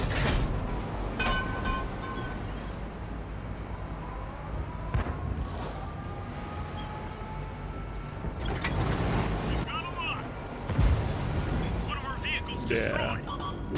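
Tank cannon shots in the World of Tanks console game, a few heavy booming blasts spread across a steady engine and battle rumble, loud and close, with players talking over the action.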